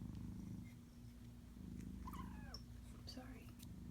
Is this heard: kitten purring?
yes